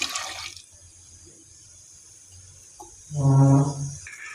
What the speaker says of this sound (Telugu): దీంట్లో వాటర్ కూడా వేసేసుకోవాలి